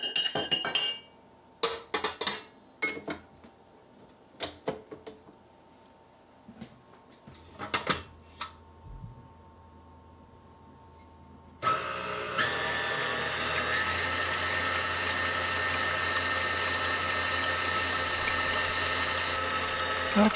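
A stand mixer with a paddle attachment mixes pizza dough, its steady motor whir starting partway through after scattered clinks and knocks, continuing loud and even.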